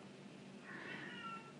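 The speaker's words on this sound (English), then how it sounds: "you can probably hear my cat in the background making some crazy noises there" A house cat lets out a drawn-out, strange meow in the background, faint and somewhat distant over a steady low hum.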